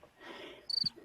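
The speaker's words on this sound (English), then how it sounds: "There's a little Cool. crickets there." Crickets chirp in short, high, steady trills, a few clear bursts at close to moderate distance over faint background noise, with no talk.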